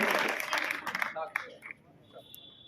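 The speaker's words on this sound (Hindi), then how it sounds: "इस बच्चे के लिए जोरदार ताली बजाएं" An audience claps for a child at a tehsil-level talent award ceremony, a brief, dense burst of applause that quickly fades, leaving quiet room sound and a few scattered sounds.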